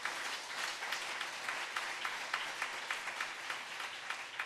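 A church congregation applauds together during an evening worship service, steady dense clapping filling the room with a few sharper accents, no voices over it.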